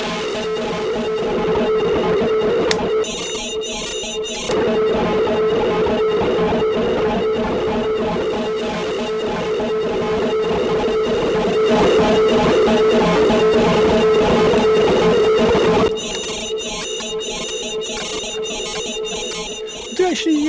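An electric guitar runs through a Recovery Effects Mystic fuzz pedal, producing a dense, loud, sustained wall of fuzzy distorted chords that plays continuously for about twenty seconds, with brief choppier strummed passages near the start and end.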